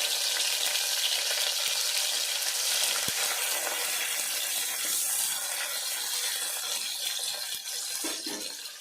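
Tomato sizzling in hot oil for a sambar tempering, a loud, steady hiss of frying that fades slightly toward the end, with no talking.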